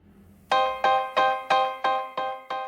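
Phone ringing with a bright electronic tone, seven quick repeated rings in steady rhythm, close and clear with nothing else heard.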